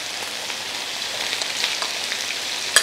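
Onions frying in a hot pan for chicken sizzler kabab, a steady hissing sizzle with scattered pops and one sharp crackle near the end, close and without talk.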